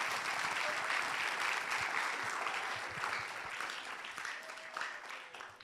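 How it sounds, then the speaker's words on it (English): An audience at the Literacy Challenge 2024 celebration gives a round of applause, steady dense clapping heard at moderate distance that slowly tapers off over a few seconds. "give yourself a round of applause"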